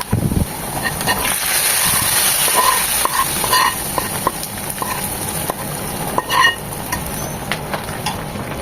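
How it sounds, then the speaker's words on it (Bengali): Garlic and onion fry in a pan for a liver bhuna while a spatula stirs them: a loud, continuous hiss of frying broken by scraping and clinking strokes, near and with no voices. "একটু পরপর এভাবে নেড়ে চেড়ে উঠিয়ে দেখতে হবে"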